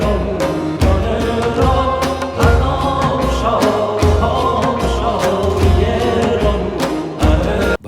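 Soundtrack music set in ancient Iranian modes with Middle Persian lyrics, a dense continuous instrumental texture with a steady, regularly pulsing low beat running throughout at full loudness.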